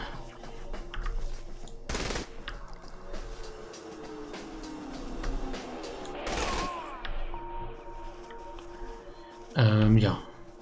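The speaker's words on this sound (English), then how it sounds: "Wir sollten hier vielleicht nicht jeden erschießen." Scattered gunfire from the video game Saints Row: The Third Remastered, a few loud sharp bursts over a steady bed of game ambience and engine rumble, with someone talking throughout.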